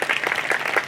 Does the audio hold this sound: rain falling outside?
no